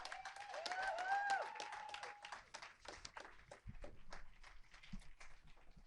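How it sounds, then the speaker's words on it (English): A small audience at a press conference on financial relief for the performing arts gives faint, scattered applause with sparse claps and a brief whistle-like tone near the start. "So a big round of applause to you."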